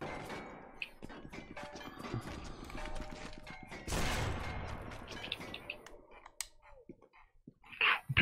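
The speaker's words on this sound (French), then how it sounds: "il balance des grenades" Gunfire and grenade blasts in the video game Sniper Elite 4: scattered rapid shots and clatter build to a loud explosion burst midway, then quieter sporadic hits and a final sharp bang.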